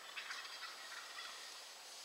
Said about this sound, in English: Turkeys right here.